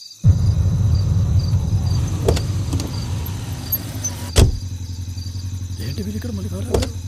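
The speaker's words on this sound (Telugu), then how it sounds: "శ్రీ, కారాపు." A car engine rumbles steadily close by, then settles and quiets as the vehicle stops, with a couple of sharp knocks and faint voices afterward.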